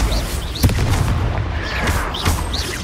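Repeated booming blasts from the Confringo curse in the Hogwarts Legacy video game, several sharp explosive bursts scattered over a busy background of game noise.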